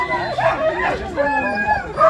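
Sled dogs bark and yip in an excited chorus at a dog sled race in Finnmark, close and continuous, mixed with crowd chatter and people talking nearby.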